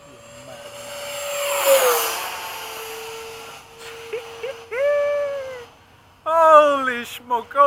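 Model F-15 jet with afterburner flying at night, a rising and falling whoosh as it passes, then thin whining engine tones surging in short bursts, with people talking and exclaiming over it.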